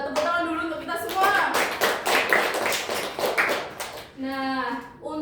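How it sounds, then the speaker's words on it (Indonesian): Students in a classroom clap together in a burst of scattered, moderately loud applause, with a voice speaking before and after it. "kalian tepuk tangan dulu untuk kita semua"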